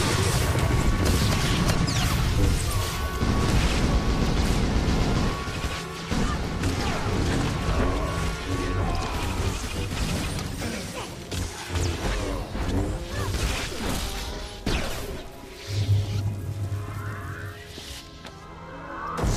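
Gunfire crackles through a firefight in Star Wars: The Old Republic, dense blasts and crashes piling up loudly at first, then thinning into scattered shots and impacts with a whooshing burst near the end.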